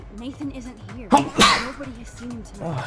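A single sharp sneeze bursts out mid-conversation, followed by a second throat-clearing burst, while people keep talking around it at close range.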